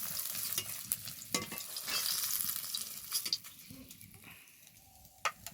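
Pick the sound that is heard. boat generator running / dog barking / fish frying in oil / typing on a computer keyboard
fish frying in oil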